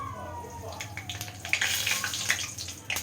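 Mustard seeds and urad dal splutter in hot oil, giving a crackling, hissing patter of small pops that builds toward the middle, close up, with faint voice-like sounds in the background.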